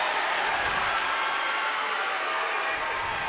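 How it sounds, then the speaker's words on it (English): A packed gym crowd at a high school basketball game, Eastside at Angola, roars and cheers in a steady, loud wash of noise with no break, with no voices standing out. "Yep, crowd's getting into it."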